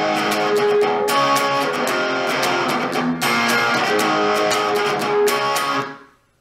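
Distorted electric guitar plays an intro riff, loud strummed power chords in a choppy rhythm with muted scratches between, then ringing out and fading at the end, with no talking.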